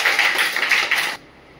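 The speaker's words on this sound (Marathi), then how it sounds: "देवांगसाठी टाळ्या वाजवा" Schoolchildren clapping together in a classroom, a short burst of quick overlapping claps lasting about a second before stopping abruptly into quiet.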